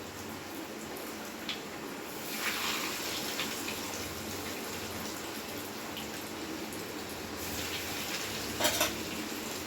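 Cheese chicken balls deep frying in hot oil, a low, even bubbling sizzle with occasional brighter crackling bursts and faint clatter.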